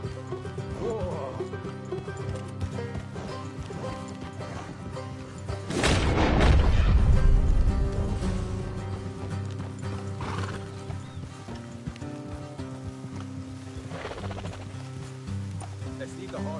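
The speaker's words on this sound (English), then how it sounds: "Let's leave the horses here and go the rest on foot" Horses clip-clop and whinny in the Western video game Red Dead Redemption 2, hooves drumming steadily under loud music with a swelling rumble midway; a horse neighs and voices talk faintly in the background.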